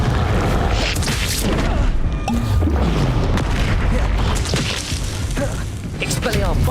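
A loud booming Confringo explosion from Hogwarts Legacy lands amid a dense spell-combat din, with crashes and whacks running on throughout and a voice calling out during the fight.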